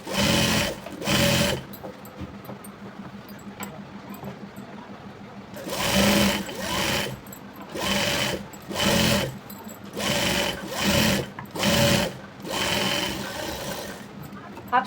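A sewing machine runs a seam on churidar pant fabric in bursts of steady whirring, stopping and starting several times, close and loud.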